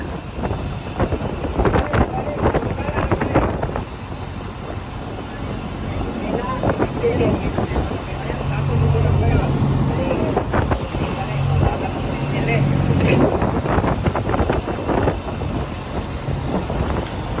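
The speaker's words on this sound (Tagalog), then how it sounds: "Grabe sobrang lakas ng hangin" Strong storm wind roars and buffets a microphone, with gusty low rumbling and rustling, under faint bursts of distant voices.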